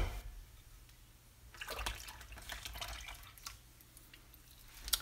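Wet pancake batter ingredients being poured into a well of dry ingredients in a home kitchen, giving a faint, soft liquid splashing and dripping with scattered light clinks.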